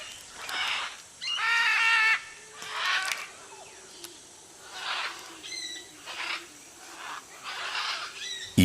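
Wild great green macaws squawking while feeding on almond fruit, harsh raspy calls in several bursts, fairly close, with rustling and quieter calls between.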